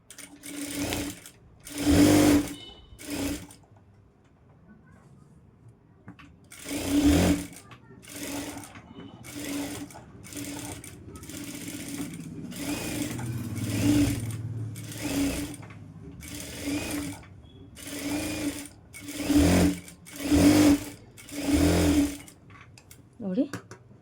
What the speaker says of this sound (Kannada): ನೆಕ್ಕನ್ನು ಸ್ಟಿಚ್ ಮಾಡಬೇಕು.